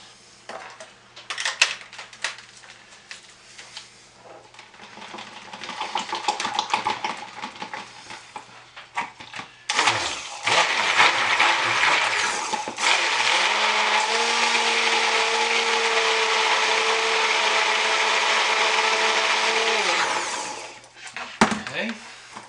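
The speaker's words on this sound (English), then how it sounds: "Put a little bit of my scent oil in there. Stick blend this." A stick blender whirs steadily for about ten seconds, loud and close, as it mixes soap with scent oil. Clinks and handling come first, and the motor spins down at the end.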